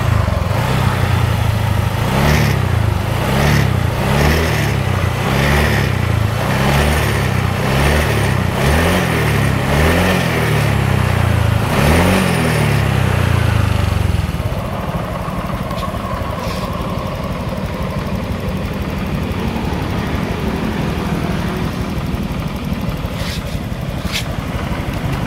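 A Honda Vario F1 scooter engine runs close up while warming, a steady rhythmic idle pulsing for about fourteen seconds before dropping to a quieter, smoother hum.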